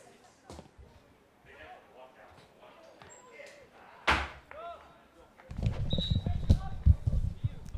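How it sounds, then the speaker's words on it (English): A door slams shut in a press or PA area at a high school boys soccer match, one sharp loud bang under announcer talk, followed by louder crowd and room noise. "Step away and close the door just a second here."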